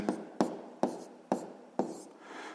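A pen or pencil taps and strokes on paper in five quick, evenly spaced marks while a math answer is written down. Close and fairly clear, with no talk.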